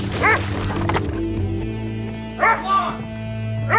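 Dogs bark and yip in short bursts, partly under a person's voice, with a couple of louder barks near the end.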